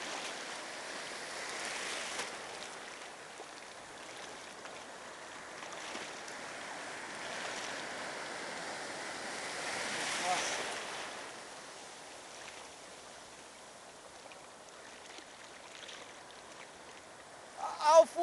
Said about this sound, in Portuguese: a onda quebra muito fundo e vem até o raso